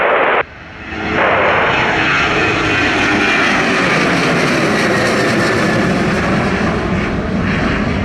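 A heavy jet airliner lands at Montego Bay airport in Jamaica, its engines a loud, broad sustained roar that swells after a brief dip and stays steady and close throughout.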